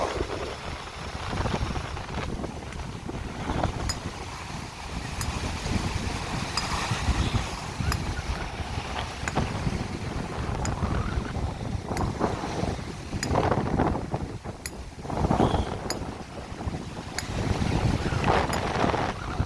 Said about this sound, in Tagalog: Yan na, ang lakas ng hangin.